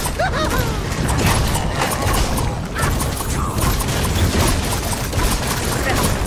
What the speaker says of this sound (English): Oh, I just got hit with a bomb.